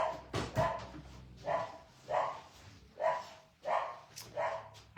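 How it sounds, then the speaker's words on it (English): A neighbor's dog barks repeatedly in the distance, about six rhythmic bursts spaced roughly a second apart, muffled as if heard from indoors. "I think the neighbor's dog is out."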